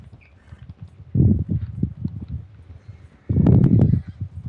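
Hooves of a horse in the video game Red Dead Redemption 2 clip-clop in a quick, even rhythm, with two louder rushes of noise breaking over the steady trot.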